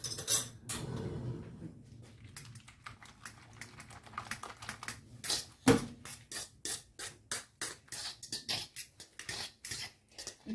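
A fork mixing eggs into potato gnocchi dough in a bowl gives quiet, rapid clicking and tapping strokes. They are sparse at first, then settle into a steady rhythm with one sharper knock midway.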